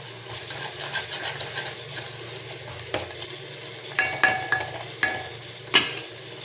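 Sliced onions with turmeric and a little ginger frying in oil in a stovetop pan for a dried-prawn curry: a steady close crackling sizzle, then several sharp clinks of a metal spoon against the pan near the end.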